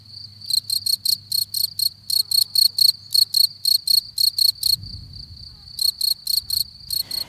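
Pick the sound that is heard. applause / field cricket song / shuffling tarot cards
field cricket song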